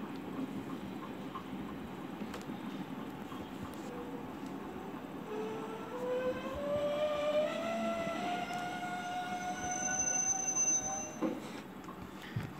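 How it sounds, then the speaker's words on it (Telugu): Train at the first platform of Palakollu railway station, a steady rumble of wagons joined midway by a long rising squeal of wheels or brakes, with a brief high tone near the end. "ఇది Palakollu railway station first platform అండి"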